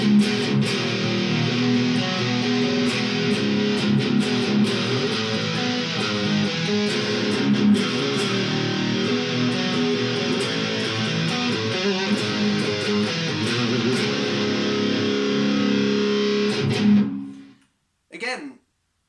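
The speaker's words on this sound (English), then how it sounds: "sounds like what you would expect a Telecaster or Strat to sound like, with a lot of distortion there" A Pacer Superstrat electric guitar plays through its split bridge pickup with heavy distortion, a thick, loud and sustained riff that rings on steadily and then cuts off abruptly near the end, followed by a brief final burst.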